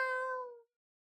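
A person imitates a cat's meow during a cat-themed tabletop roleplaying game: one short, close, clear meow that fades out after about half a second, with no other sound.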